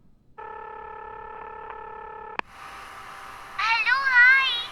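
A hostel's internal telephone gives a steady electronic ring tone for about two seconds, cut off by a sharp click, followed by a hissing line and warbling tones.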